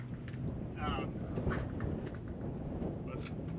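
Wind blowing across a microphone outdoors beside a vehicle awning at an off-road event, a steady low rumbling buffet with faint fabric flutters, heard alone.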